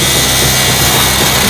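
A power drill bores a hole in the wall behind a fridge, giving a loud, continuous, close-up whirring grind that holds steady throughout without pauses.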